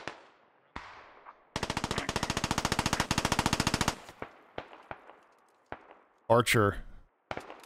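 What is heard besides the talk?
machine pistol suppressing fire in the video game Squad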